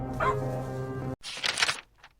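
Two dogs guarding a home bark sharply at an intruder, a burst of close, loud yaps following a steady droning hum, then a faint final yip.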